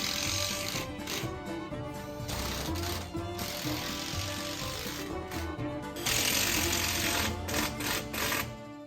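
A power driver sinks 1.5 inch metal roofing screws into a sheet metal roof over a trash can enclosure, giving a loud, continuous rattling whir with brief breaks between screws.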